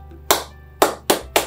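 Four sharp hand claps in a classroom attention-getter pattern, close and crisp: one clap, a pause, then three in quicker succession, with no talking.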